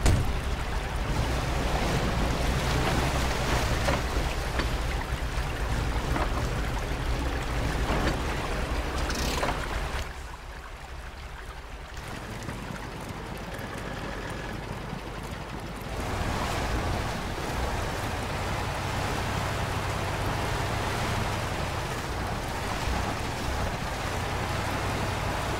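Rushing river water sweeps a truck away in Spintires MudRunner, on the Selenga River map, as a loud continuous roar of churning current with a brief dip before the surge returns.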